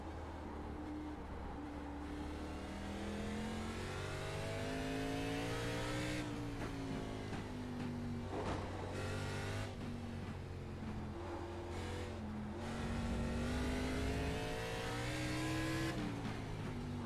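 An ARCA Menards Series NASCAR race car in the iRacing game howls through its gears at Sonoma Raceway, the engine note rising and falling steadily throughout, with repeated upshifts, a sustained loud roar close by and brief tire noise.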